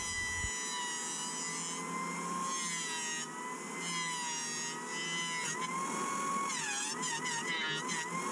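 A woodworking jointer mills wooden face frames for a shoe and storage bench, giving off a loud, sustained high-pitched mechanical whine whose tone rises and shifts as boards pass over the cutter.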